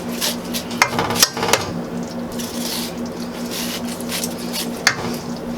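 A knife shaves corn kernels off the cob straight into a cooking pot for chicken, sausage and shrimp gumbo, giving soft, close scraping and squishing strokes with a few light clinks against the pot.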